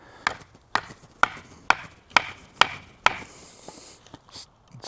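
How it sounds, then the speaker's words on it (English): A knife being batoned through a wooden stick gives seven sharp, evenly spaced wooden knocks, close and crisp, followed by a few softer taps and rustles, with no talking. "We're gonna baton this off right here."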